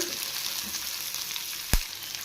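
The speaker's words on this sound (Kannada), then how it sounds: "ಈರುಳ್ಳಿ ಚೆನ್ನಾಗಿ ಫ್ರೈ ಮಾಡ್ಕೋಬೇಕು ಗೋಲ್ಡನ್ ಕಲರ್ ಬರೋವರೆಗೂ" Onions fry toward golden in a pan for an egg and chicken sambar, producing a steady, close sizzle with one sharp utensil knock near the end.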